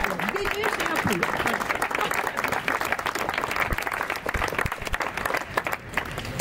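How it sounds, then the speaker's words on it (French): Sustained audience applause at a press outing in a hotel in Nice, with dense clapping held steady throughout and some voices and crowd murmur mixed underneath. "Applaudissons les Vénus et applaudissons aussi leurs Apollons."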